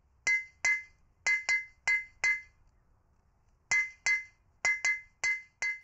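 Metal struck by a blacksmith's hammers in a coal-fired forge, ringing clinks in pairs and short groups with a pause in the middle, loud and close, no talk.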